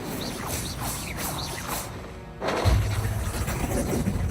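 Incendio fire spell cast against poachers in Hogwarts Legacy, a run of swishing magical bursts followed by a heavy booming impact and sustained roaring, crackling fire noise, loud and close.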